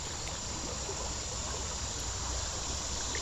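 Steady rushing water runs over a shallow riffle on Big Elk Creek in Maryland, a constant broadband wash with no breaks, fairly near and alone without voices.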